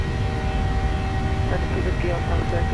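A steady, loud roar from a Ryanair airliner's jet engines at takeoff power at Leeds Bradford in Microsoft Flight Simulator, with a person talking over the constant drone.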